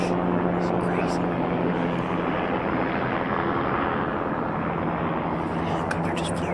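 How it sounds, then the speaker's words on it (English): A helicopter passes overhead in woods where brush is burning during a Tennessee gun hunt, a steady loud rotor rumble that fills the air, with a person speaking over it. "The helicopter just flew right overhead."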